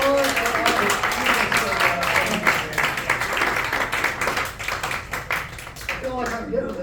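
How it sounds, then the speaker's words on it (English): An audience gives a round of applause at a magic show, with dense close clapping over music or voices, thinning slightly toward the end. "A round of applause for"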